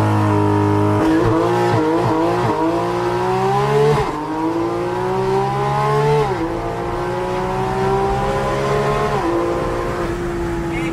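A sports car engine set to sport mode accelerates hard, its loud, close note climbing through several gear changes with brief dips between pulls, while a person exclaims faintly in the background.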